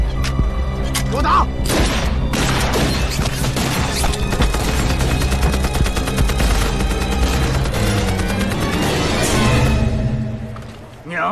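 Heavy gunfire in a war film set during the anti-Japanese resistance, a dense, loud barrage of shots and booming impacts running almost continuously before easing off at the end.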